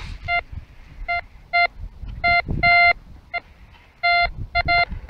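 A metal detector beeps over a buried metal object in a field dig, sounding a series of sharp electronic tones in short bursts and a few longer ones, loud and close over faint rustling and scraping.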